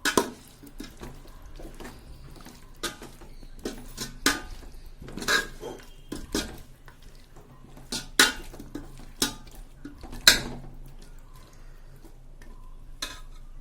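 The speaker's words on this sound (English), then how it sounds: "let's actually mix it well with the vegetables" Spoon scraping and clinking against a pot while radish and potato pieces are stirred into masala for Karnataka-style sambar, with irregular close knocks and scrapes over a quiet low hum.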